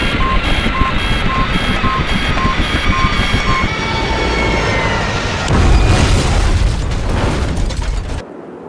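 A plane crash explosion in the video game IGI, a loud, dense roar with beeping alarm tones early on, swelling into a heavier blast near the middle before cutting off abruptly at the end.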